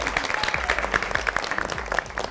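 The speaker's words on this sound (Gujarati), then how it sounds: "તો યસ, ત્રણેય વિનર્સ માટે જોરદાર તાળીઓ થઈ જાય." A studio audience claps steadily for three game show winners, a dense patter of hands lasting a couple of seconds.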